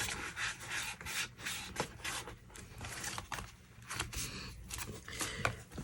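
Paper pieces of a diamond pop-up card are burnished by hand, giving repeated close, dry rubbing and scraping strokes in an uneven rhythm.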